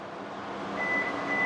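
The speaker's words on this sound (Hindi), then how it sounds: "इसको नीचे करके आप ये बटन दबा के रखेंगे और ये गाड़ी बीप करेगी।" A 2026 Hyundai Tucson HTRAC AWD gives a steady electronic beep while its powered tailgate height is being set, a thin tone over low ambient hum that emerges midway and holds to the end.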